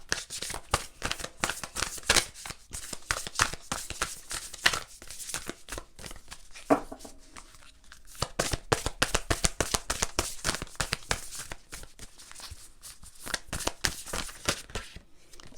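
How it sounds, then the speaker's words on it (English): Tarot cards are shuffled repeatedly up close, a steady stream of rapid riffling and flicking bursts with brief pauses between passes. "So I also want to shuffle these cards for you."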